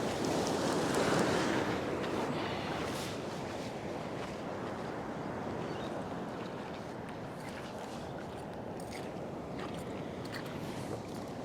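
Sea waves rolling in against coastal rocks at a fishing spot, a broad crashing surge at the start that settles into a sustained loud wash and fizz, with wind buffeting the microphone.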